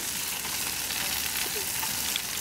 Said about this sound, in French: C'est le son du barbecue.